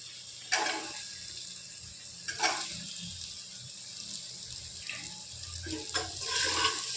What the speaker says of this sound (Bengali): আদা রসুন থেঁতোটা একটু তেলের মধ্যে নেড়ে নিয়ে দিয়ে দেব কেটে রাখা পেঁয়াজ